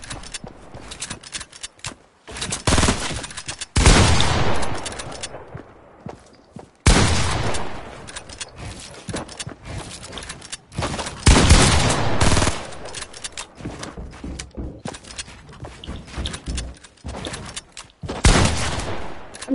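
Rapid bursts of automatic gunfire in the video game Fortnite, loud and close, firing in several long sustained volleys separated by short pauses, with footstep-like clicks in the quieter gaps.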